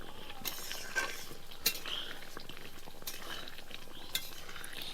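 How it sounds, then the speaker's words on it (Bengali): A spoon scrapes and clinks against a pan while ghee is stirred into a prawn malai curry, soft sporadic metallic taps over a faint sizzle, no talk. "এবার সবশেষে দিয়ে দেবো কিছুটা ঘি, দিয়ে ভালোভাবে মিশিয়ে দেবো"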